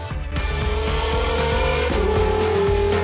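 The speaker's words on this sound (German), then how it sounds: "Komm, Kickdown, Toni." A BMW 1 Series kicks down and accelerates hard, the engine note climbing loudly and steadily from inside the car, with one clear gear-change dip partway through and no talk.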